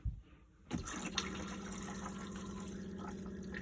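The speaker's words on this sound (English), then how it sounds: "there you can see it flushes" A motorhome toilet flushes on an electric pump: a quiet pause, then a sudden gush of running water with a steady pump hum continuing close by.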